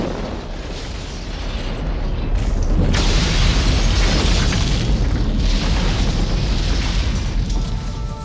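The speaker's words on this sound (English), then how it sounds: "Blasts are monitored with special high-speed cameras so the shock waves from the explosions can be measured" Blasting explosions for Panama Canal maintenance rumble as a loud, sustained roar of booms with crackling debris and mechanical rattle, continuous for several seconds.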